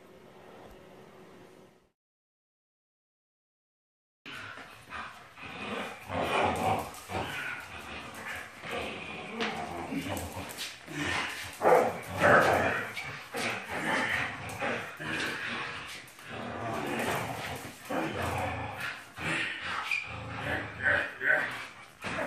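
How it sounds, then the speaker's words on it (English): Dogs bark and yip in lively play at a friend's house, with sharp bursts scattered over steady background noise after a brief quiet start, and people's voices mixed in. "My buddy Joey, play with the dogs a little bit"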